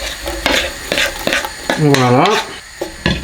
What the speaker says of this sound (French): nos oignons ont maintenant une bonne coloration, donc on va les transférer à feu doux dans la marmite